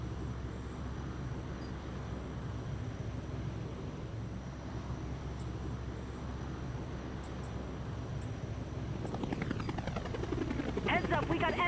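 Enemy helicopters close in during an aerial combat mission in Tom Clancy's H.A.W.X 2, a steady rotor and engine drone with radio chatter over it. The roar swells louder toward the end as the craft near.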